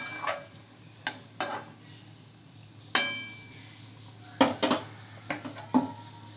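A pot of fish curry (rohu macher jhol) being stirred gently after fried ground spice paste goes in, giving scattered metallic clinks and scrapes of a utensil against the pot, some sharper and closer, over a low steady background hum.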